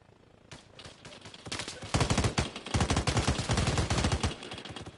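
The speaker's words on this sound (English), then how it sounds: "they're opening fire" Automatic gunfire from the Arma Reforger military video game erupts in rapid, dense bursts, growing louder and more sustained as the firefight intensifies, with rattling volleys packed closely together.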